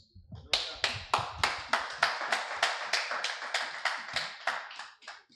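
Rhythmic unison clapping from a church congregation at a Sunday service, sharp claps in a steady beat of roughly three per second, close and distinct, with no talking over it.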